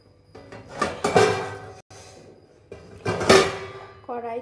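Pots and dishes are washed in a kitchen sink, including a kadai, a plate, a lid and a ladle: irregular metallic clanks and clatters, loud and close, with quieter gaps between them.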